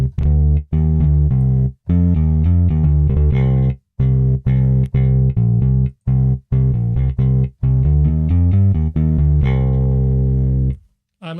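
Electric bass from a software bass plugin with its distortion turned down, played as a run of punchy, clearly articulated notes with short gaps. It stays loud and close throughout and ends with a brief silence.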